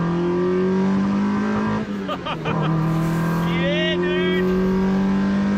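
A Honda VTEC car engine revving hard nearby, a sustained droning tone that climbs and holds under brief casual talk.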